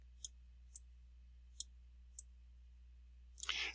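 A computer mouse clicking, four crisp isolated clicks spaced about half a second apart in a quiet room, followed by a brief rustle at the end.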